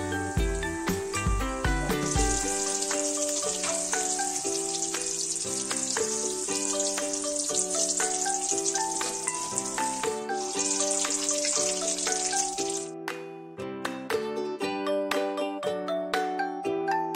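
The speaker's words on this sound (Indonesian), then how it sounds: "kemudian goreng hingga matang" Battered cassava leaf rolade deep-frying in hot oil gives a loud, steady crackling sizzle that eases off near the end, with faint music playing underneath.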